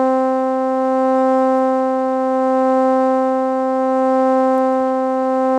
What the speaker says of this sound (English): So I added some vibrato, redux, an EQ, and a tremolo.